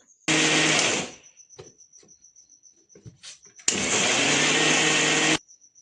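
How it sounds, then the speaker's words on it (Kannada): A mixer grinder whirring through coriander chutney in two loud, steady bursts of about a second and nearly two seconds, separated by a short pause with light clicks and handling noise. "ಲಾಸ್ಟಲ್ಲಿ ಒಂದು ಗ್ರೌಂಡ್ ಅಷ್ಟೇ ರುಬ್ಬಬೇಕು"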